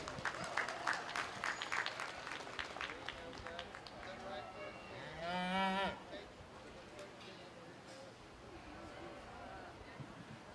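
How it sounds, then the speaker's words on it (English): Applause rises from the crowd at the Umatilla County Fair 4-H/FFA beef cattle showmanship ring, scattered claps under an announcer's talk, with a cow lowing loudly partway through. "Let's give him a round of applause, too."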